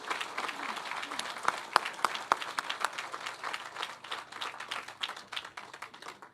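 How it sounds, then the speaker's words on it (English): Crowd applause at a tower dedication ceremony honoring veterans, many hands clapping steadily with distinct sharp claps standing out, sustained and fairly close, with some voices mixed in. "Please, let's give them another round of applause."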